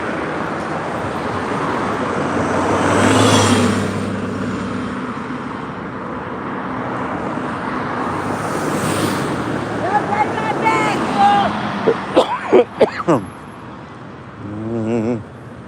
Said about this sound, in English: Really busy here. Sorry for the traffic noise